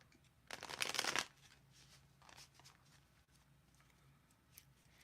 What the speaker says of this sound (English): doing a little bit of shuffle